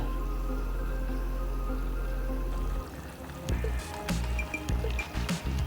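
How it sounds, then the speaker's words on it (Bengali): Ash gourd shukto, a Bengali vegetarian dish, gets stirred in a pot: a steady background hum gives way to wet, sloshing stirring and clinks of the spoon against the pot, close by. "এবার ভালো করে মিশিয়ে আবার ঢাকা দিয়ে দেব।"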